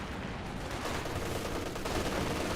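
An MG34 machine gun fires continuously in Company of Heroes 2. The dense, rattling burst stays loud and steady throughout, amid the clatter of a battle.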